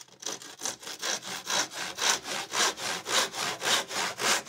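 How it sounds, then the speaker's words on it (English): A tenon saw cuts through scrap timber in a steady back-and-forth rhythm of about a dozen strokes, each a close, loud rasping pass of the teeth through wood, heard alone. "You don't have to use the tenon saw, you can use the saw of your choice."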